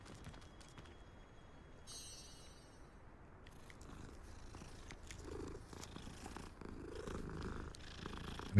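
A cat in Hogwarts Legacy purrs softly and steadily while being petted, a low continuous rumble with faint clicks and ambient game sounds around it, growing slightly louder toward the end.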